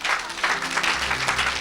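An audience at a church service applauds for Jesus, a brief, close burst of dense, steady clapping.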